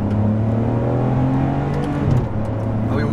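A Ferrari 599 HGTE in race mode, its V12 holding a loud, steady engine drone heard from inside the cabin, rising slightly near the end, with no talk.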